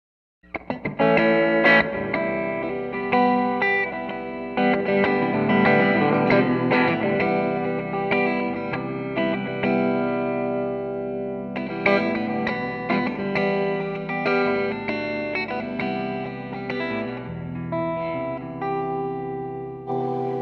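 An electric Teye Coyote guitar plays a continuous run of chords and notes through distortion and heavy reverb, dense and fairly loud, with no voice over it.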